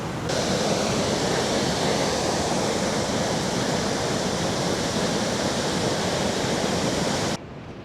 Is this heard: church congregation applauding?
no